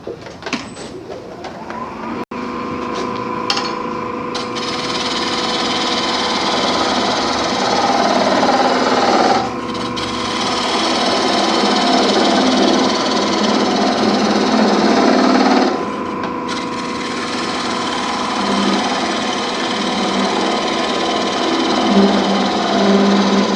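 A pencil held against a tri-tip bowl spinning on a wood lathe gives a continuous loud whirring, buzzing drone for over twenty seconds, with brief dips and clicks as the contact shifts, and no talking.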